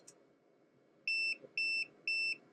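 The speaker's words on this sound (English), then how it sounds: "I think it beeped at us and gave us a high voltage thing because we're over 30 volts" An IMARS 3-in-1 dual-channel oscilloscope meter sounding its high voltage warning: three clear, evenly spaced electronic beeps, each about a quarter second long, close and piercing over a faint background hum.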